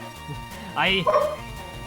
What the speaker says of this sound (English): The dog! The noise!